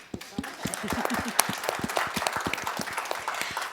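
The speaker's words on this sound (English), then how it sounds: "We should clap again." Audience applause at an evening fellowship keynote event, with sharp individual claps building into a steady, moderately loud ovation that carries on throughout, a few voices faintly mixed in.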